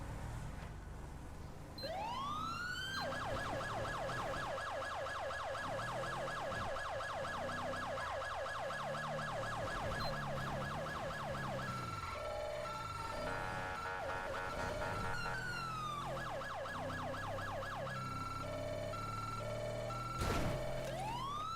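Ambulance siren in the video game FiveM wails continuously, close and loud, cycling between a steady wail and a faster yelp pattern over engine rumble for about twenty seconds.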